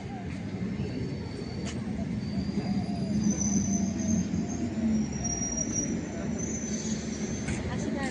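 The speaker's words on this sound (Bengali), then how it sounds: "ট্রেনটা প্ল্যাটফর্মে প্রবেশ করলো আস্তে আস্তে। ট্রেনটার গতিটাও কমে যাচ্ছে।" A commuter train bound for Canning rolls slowly into a station platform, a steady loud rumble of wheels and carriages throughout, with faint high wheel squeals drifting above the noise.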